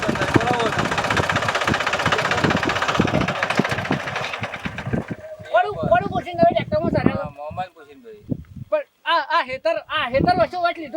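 A tractor engine idles with a steady rumbling chug for about five seconds under loud talking, then cuts out, leaving only the voices.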